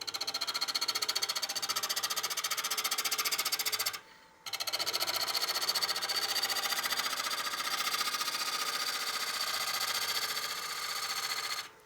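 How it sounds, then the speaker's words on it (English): A wood lathe spins while a tool shear-scrapes a platter blank, a loud continuous buzzing scrape with a brief drop near four seconds before the steady scraping resumes. "so I'll shear scrape this"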